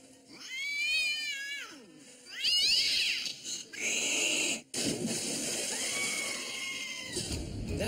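A voice imitates a cat with a string of drawn-out, rising and falling meows, loud and close, with brief pauses between the calls and a cartoon-like tone.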